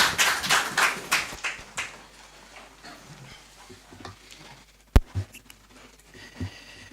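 Applause from an audience at a Ghana state address by President Mahama, a dense burst of clapping in the opening seconds that thins out, followed by scattered claps and a sharp knock near the end.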